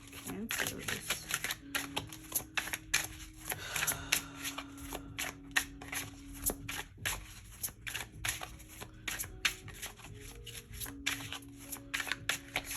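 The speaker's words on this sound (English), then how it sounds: "Let's do a quick shuffle." Tarot cards are shuffled in quick, papery riffling bursts, faint and close, with a voice talking throughout.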